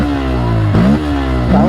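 Engine of a modified Bajaj Pulsar N160 motorcycle, loud and close, a steady idle rising in two quick revs before settling again, with no talk.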